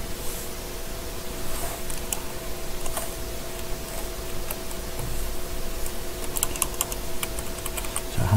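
Keys clack on a computer keyboard while a CAD command is entered, scattered soft taps with a few sharper clicks over a low room hum, close by and with no talking.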